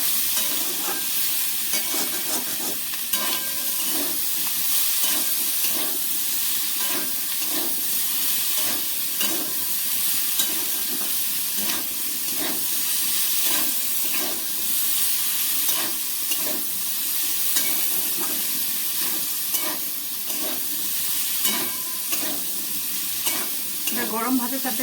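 Snail curry (guguli jhal) fries in a pan over lowered gas, a dense continuous sizzle with rhythmic scraping strokes of a spatula stirring throughout, close and steady.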